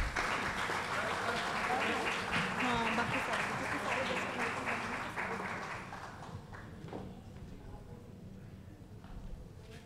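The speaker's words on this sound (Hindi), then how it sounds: "एक बार जोरदार तालियां मैम के लिए।" An audience at an awards ceremony in India claps loudly and steadily, then the applause thins out and fades to scattered claps and quiet murmur.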